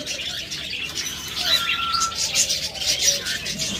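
Cockatiels in an aviary chirp and call in a steady chorus of shrill, overlapping tweets, with fuller bursts midway through and a few thin whistled notes over the background.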